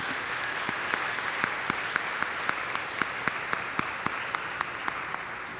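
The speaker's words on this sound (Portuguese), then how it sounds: "Dê uma salva de palmas ao Senhor Jesus" Church congregation applauding during a Sunday service, a steady rhythmic round of clapping in unison with sharp regular claps across the whole stretch, no talk over it.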